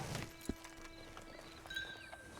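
Horse hooves clip-clopping in the Western video game Red Dead Online, a few faint, quiet hoof steps against a low ambient backdrop with no talking.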